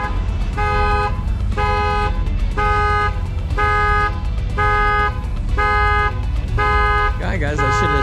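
A parked Corvette's alarm blares in a steady repeating pattern of regular tonal honks, about seven even bursts over several seconds, loud and nearby at an outdoor car show with a busy background of people and traffic.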